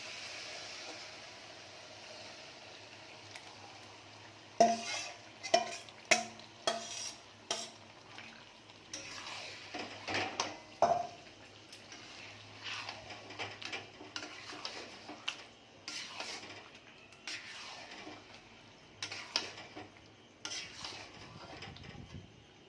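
Chicken pieces fry over full gas with already-browned onions for chilli chicken, under a faint, steady sizzle. Irregular spatula scrapes and clinks against the pan come in bursts after the first few seconds.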